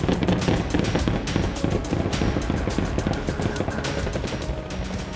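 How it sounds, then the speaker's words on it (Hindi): North Korean artillery guns firing during a war drill: a dense, continuous barrage of sharp blasts and cracks overlapping one another, loud and sustained with no pauses across the stretch. "उत्तर कोरिया के तोपें गरजी"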